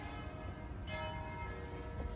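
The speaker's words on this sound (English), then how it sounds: "And the church bells are ringing." Faint church bells ring in the distance in Italy, heard from a hotel patio, over a quiet, steady background hiss.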